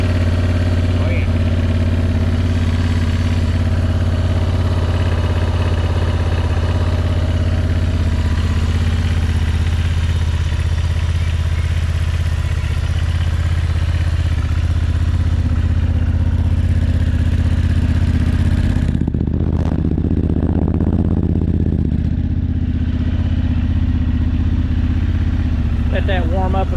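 A 2025 Honda Transalp motorcycle idles while warming up, a steady low engine drone with mechanical clatter running throughout, a brief louder surge near the twenty-second mark, and a person speaking over it at times.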